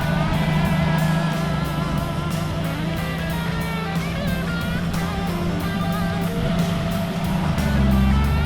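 A Jeep CJ7 engine idles and runs while backing up in reverse, a steady low motor rumble with rhythmic clicking ticks and some rattling, close and fairly loud, with no talking.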